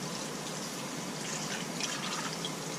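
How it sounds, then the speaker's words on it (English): Water runs steadily from a tap into a container of leftover chicken bones and wing tips, a continuous soft gushing fill with no speech. "I'm just gonna put some water in here."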